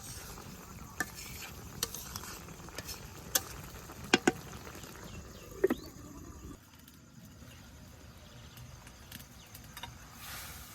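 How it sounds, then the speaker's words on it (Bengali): Fresh river fish curry stirred and fried in oil, a soft sizzle under repeated scraping and knocking of a spoon against the pot, the clatter fading into quieter simmering in the second half. "এখন তেলে কষে নিলাম"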